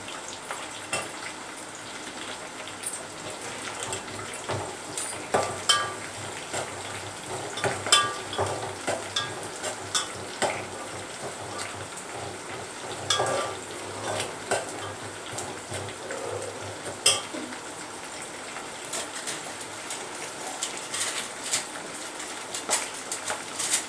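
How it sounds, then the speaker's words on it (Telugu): Onion and chopped green chillies frying in a pan, a steady close sizzle with irregular stirring scrapes and light clinks of a utensil against the pan throughout, no talking. "ఉల్లిపాయ వేగింది, దాంట్లో మనం తరిగిన పచ్చిమిర్చి ఉన్నాయి కదా అవి వేసుకుంటున్నాము"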